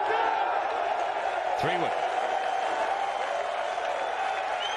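Golf fans at the Ryder Cup cheer and applaud in a steady broad crowd roar heard at a distance, with a commentator's voice and a brief whistle-like sweep partway through.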